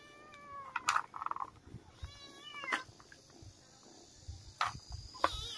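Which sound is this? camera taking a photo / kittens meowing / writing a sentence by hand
kittens meowing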